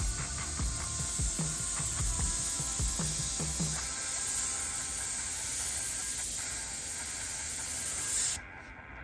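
An Iwata Eclipse HP-CS airbrush spraying paint gives a steady, continuous airy hiss close by, with faint clicks and handling noise early on, then cuts off abruptly at the end.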